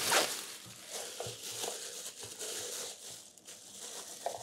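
A plastic refrigerator bag gives one brief, crisp crinkle up close, then rustles softly and faintly as it is handled in a quiet room.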